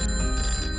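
Telephone ringing in a promo for a farmers' phone helpline, a steady continuous bell-like ring held loud and close for the whole short moment, with no voices over it.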